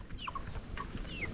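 A farm chicken clucks in a few short bursts, fairly close, over a steady outdoor background hum with no talking.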